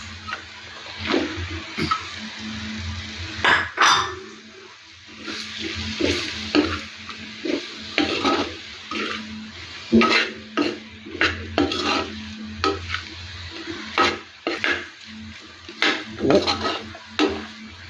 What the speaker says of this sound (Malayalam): നമ്മുടെ വഴുതനയെ അരിഞ്ഞു വെച്ചിരിക്കുന്ന വഴുതനയെ കൊടുക്കാം.